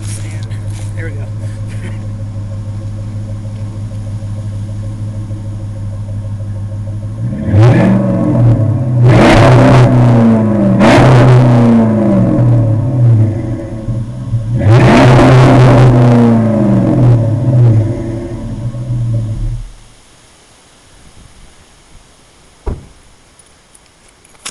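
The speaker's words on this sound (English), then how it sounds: "I'm going to go ahead and leave you with the exhaust, just so you can get a nice sound" A 2005 Dodge Magnum RT with a Hemi V8 idles with a low exhaust rumble, then is revved hard in two bursts of rising and falling roars before shutting off, leaving near silence with a faint click.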